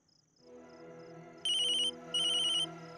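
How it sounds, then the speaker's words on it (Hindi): A phone ringtone plays alone: a soft musical tune is joined by two loud, bright electronic ringing bursts in a row. "डैड का फोन।"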